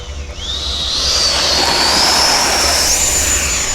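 An FMS F-16 70mm electric ducted-fan RC jet flying past, a loud high-pitched whine rising in pitch and holding strong as it passes near, with no talk.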